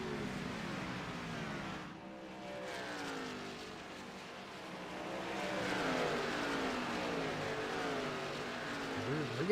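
Stock cars in an Xfinity Series racing game at Nashville Superspeedway run nose to tail at full speed, their engines blending into a steady droning roar that swells slightly toward the end.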